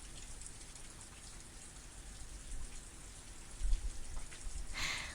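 Steady rain falls in a dense, even hiss of drops on surfaces, soft and continuous, with a slightly heavier patter toward the end and no talking.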